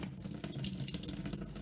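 Water pours steadily from a household tap into a Gtech AirRam Mk2 vacuum filter, a continuous close splashing rush that stays constant throughout with no speech.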